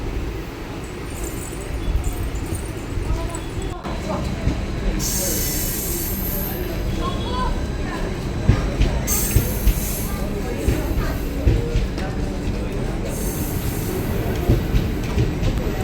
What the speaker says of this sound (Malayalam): അപ്പോൾ ട്രെയിൻ എടുക്കാനായി, ട്രെയിൻ പോവുകയാണ്.